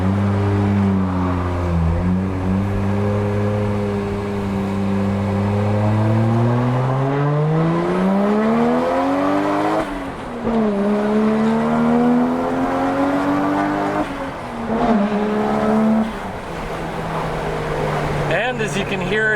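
Toyota Mark II engine with a limited-slip differential revving hard through the rev range while driving, a loud harmonic drone rising and falling in pitch across several gear pulls inside the car.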